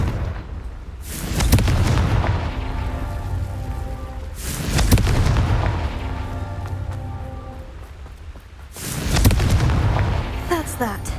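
Three loud, booming blasts of the Confringo fire spell in Hogwarts Legacy, spaced about four seconds apart, each a sharp crack swelling into a rumbling roar that fades before the next.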